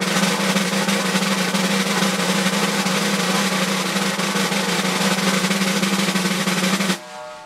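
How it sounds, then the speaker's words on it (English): A dense, continuous buzzing multiple-bounce snare roll holds steady at a loud, even level for several seconds, then stops abruptly. "So that's the multiple bounce roll."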